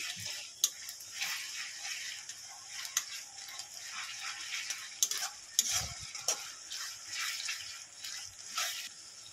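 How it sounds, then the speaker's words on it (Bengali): Ginger garlic paste is stirred and fried for beef curry, a soft frying sizzle under repeated scraping and clicking stirring strokes, fairly quiet and close. "ভালো করে আদা রসুনটাকে কষিয়ে নেব।"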